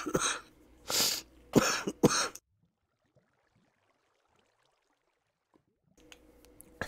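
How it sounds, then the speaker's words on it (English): A person coughs in several rough, close bursts in quick succession, then the sound falls to near silence. "other than me coughing"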